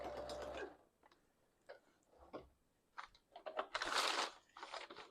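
A sewing machine stitches layered paper scraps for an art journal cover, running in short, uneven bursts with quiet pauses between and a louder, denser run near the end.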